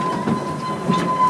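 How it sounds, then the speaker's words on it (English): A moving passenger train in Wales rumbles steadily, heard from inside a carriage, with a continuous low roar of wheels on the rails and faint rhythmic clicks, fairly loud and with no voices. "It's a video blog from the train that's moving."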